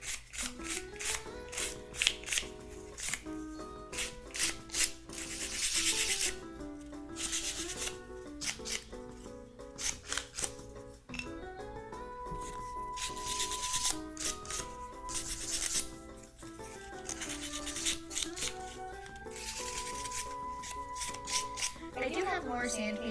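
Sandpaper rubbed by hand on a small craft piece, a close rhythmic scratchy rasping in repeated strokes, with quiet talk and soft background music underneath.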